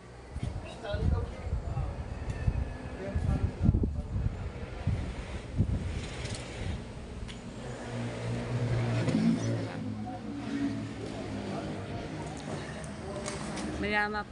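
Strong wind buffeting the microphone outdoors in cool Baguio City, a steady rough rumble with gusty swells throughout, and a voice talking over it at times.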